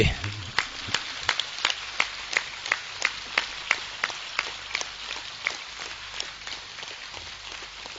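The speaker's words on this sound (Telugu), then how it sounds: "చప్పట్లు కొడితే గట్టిగా కొట్టాలి" Audience clapping in time at a spiritual discourse event: a steady series of sharp, evenly spaced claps repeating over several seconds, fairly loud and close, with faint background murmur.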